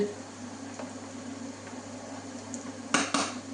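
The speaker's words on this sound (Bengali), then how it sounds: "ঢাকনি দিয়ে ঢেকে দিচ্ছি" A lid goes onto a cooking pot of lamb and okra, landing with a couple of close metallic clanks near the end after a quiet stretch of low background hum.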